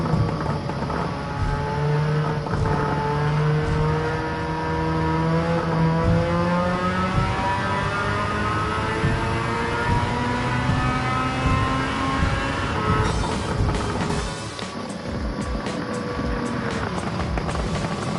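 A Suzuki Cappuccino with a swapped engine drifting in Gran Turismo 7, its engine revving steadily with rising and falling pitch through a long slide, loud and continuous with no talk.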